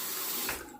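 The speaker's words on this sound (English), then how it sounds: "drain the little bit of water I poured in the basin again" Water runs and drains from a bathroom sink basin during a shave, a soft steady rushing that tapers off near the end.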